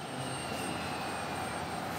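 An aircraft auxiliary power unit, the engine that helps start the main engine and supplies power on the ground, runs at the Gidravlika plant in Ufa, giving a steady, loud whine and roar with a constant high tone and no pauses.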